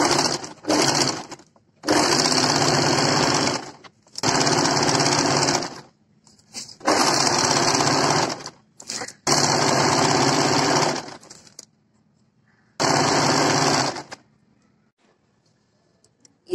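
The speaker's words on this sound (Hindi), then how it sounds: "अब हम अपनी कुर्ती पर फिटिंग लगाएंगे, सिलाई लगाएंगे फिटिंग के लिए" A sewing machine stitching the fitting seams of a kurti, loud whirring bursts of a few seconds each separated by short pauses, close up with no voices.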